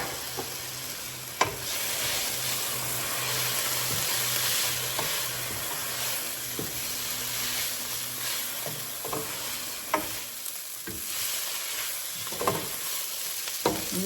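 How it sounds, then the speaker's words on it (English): Collard greens sizzle and fry with bacon in a pan, a steady broadband crackle with occasional sharper clicks and pops from stirring, close and continuous without any talking. "I'm gonna cook these greens in here with the meat so that the meat of the flavor of the bacon can get into the greens."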